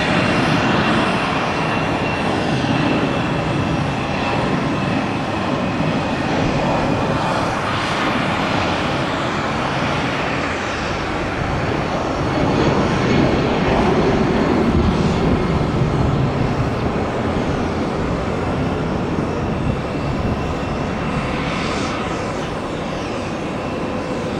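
An MD-80 airliner landing at Tampa airport roars in a loud, continuous jet rumble that swells and shifts as it passes, sustained throughout with no voices.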